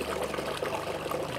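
Water drains steadily from the tank of an Ashbys Enforcer 800 psi carpet cleaner, a continuous close trickling and gurgling with no talk.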